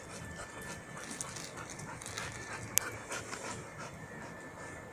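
A dog pants steadily and quickly during recall training outdoors, close but fairly quiet, with a faint whimper and one brief sharp click.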